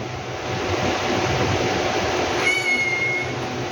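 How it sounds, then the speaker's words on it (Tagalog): A house cat gives one short, thin, high meow partway through, heard over a steady background hum. "Napakakulit na pusa."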